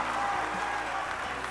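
Audience applause at a large FFA state leadership conference general session, steady dense clapping from a big crowd filling the hall.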